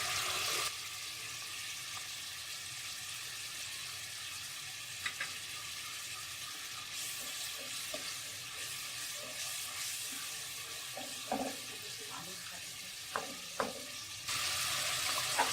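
Tomatoes cooking in a pan for a brinjal and potato curry, a steady broad sizzle with occasional soft clinks and stirring taps near the end.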